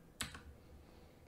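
One press of the 1 key on a keyboard's numpad gives a single crisp click with a faint second tick just after, quiet and close, followed by near silence.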